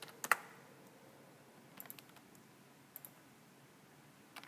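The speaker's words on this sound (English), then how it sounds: "Type in twist." A few scattered keystrokes sound on a computer keyboard in a quiet room: a quick cluster of clicks, then several sparse single taps, soft and close.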